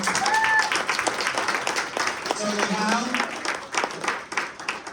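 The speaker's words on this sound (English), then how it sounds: "can we get a round of applause for the newlyweds" A wedding crowd applauds the newlyweds, dense clapping throughout, while a voice speaks over it and a few whoops rise near the start.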